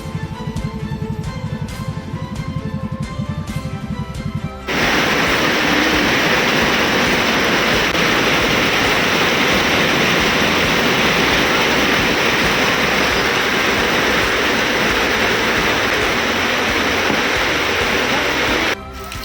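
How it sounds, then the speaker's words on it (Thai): Flash flood water rushes and surges near a village, a loud dense roar that bursts in suddenly after a few seconds of quieter background and holds strong until cutting down near the end. "น้ำกำลังดันขึ้น"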